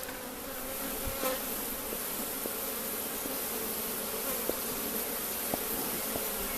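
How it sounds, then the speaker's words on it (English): Honeybees droning in a beehive just after being smoked, a steady dense buzz close by with faint scattered clicks and bumps from the hive, no voices. "They sure buzz when you hit them with that smoke, I tell you."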